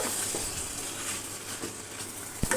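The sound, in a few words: stirring curry of sweet pumpkin and egg in a pan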